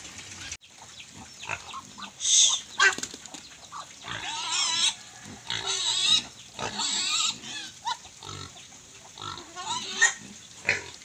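Native pigs on a Philippine farm grunt and squeal in bursts throughout, close and fairly loud, with one sharp high squeal early on amid continuous rustling and movement.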